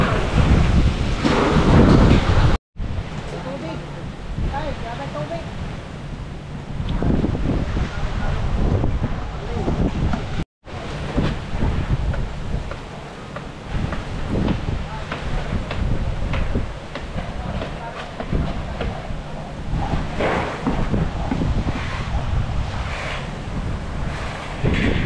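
A heavy rainstorm with strong wind, probably rain drumming on a corrugated metal roof, roars loudly as a steady dense wash with gusty wind buffeting, briefly cut twice, while voices talk intermittently underneath.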